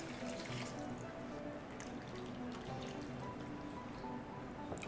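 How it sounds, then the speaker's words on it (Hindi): Water pours and trickles into a pan of veg Maggi noodles, a soft, continuous wet splashing at low volume with faint drips, and no talking. "बस इसी स्टेज पर इसमें हम डालेंगे पानी"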